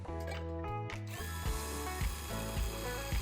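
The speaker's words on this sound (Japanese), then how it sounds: "センターポンチ付きのドリルでゆっくり穴を開けることで綺麗な穴を開けることができます" Close mechanical whirring and grinding of a small drill with a center punch tip, with tonal hums and repeated ratcheting bursts as it slowly bores a hole into the bottom of a tin can.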